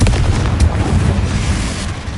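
A Confringo explosion spell goes off in the video game Hogwarts Legacy: a loud, heavy blast that holds as a dense, rumbling roar for about two seconds with no voices.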